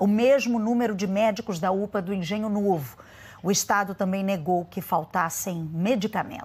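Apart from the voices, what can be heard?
No everyday noise stands out behind the speech.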